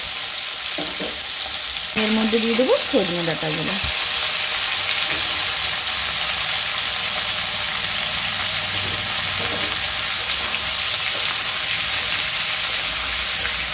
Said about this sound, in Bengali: ভালোভাবে একটু মিশিয়ে আমি 2 মিনিটের মতন একটু ভেজে নেব।